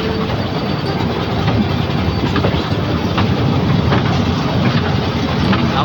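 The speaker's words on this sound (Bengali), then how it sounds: "ট্রেন ছেড়ে দিয়েছে আমাদেরকে" A toy train ride at the Howrah Rail Museum gives a loud, constant rumble with rhythmic clickety-clack from the wheels. It is heard from on board the moving carriage, with no talking.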